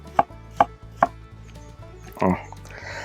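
Champignon mushroom stems being chopped for a filling: three crisp knife strokes on a board at a steady pace, then quieter taps and a longer scraping cut, close and fairly faint.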